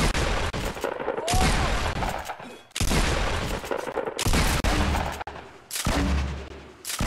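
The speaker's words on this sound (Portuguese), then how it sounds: "Pode atirar, atira." Gunfire in the Fortnite video game rattles out in dense, loud bursts of rapid shots, with several sustained volleys broken by brief pauses.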